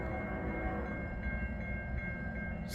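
CN freight train with a Canpotex potash consist rolling past at Ladysmith, a loud continuous low rumble with steady wheel noise, a faint distant tonal whistle-like hum and a few soft clicks.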